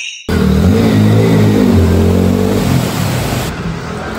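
A motorbike engine labours through a flooded Kolkata street after heavy rain, droning loud and close with uneven revs that sag toward the end.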